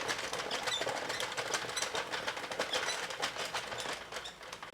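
A Sentro or Addi circular knitting machine is cranked through a full row without yarn, giving a steady, fast, close mechanical clatter of clicks that fades slightly at the end.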